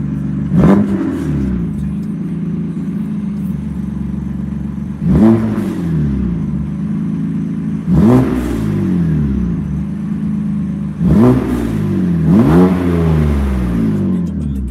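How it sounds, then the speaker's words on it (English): BMW M4 engine revving repeatedly from idle, exhaust barking up in four or five sharp, loud blips spaced a few seconds apart with a steady burbling idle between them, close by. "How the exhaust sound?"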